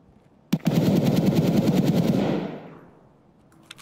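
A long, sustained burst of automatic gunfire in the video game Escape from Tarkov, loud and close, running for about two seconds before trailing off into a fading echo, with no talking.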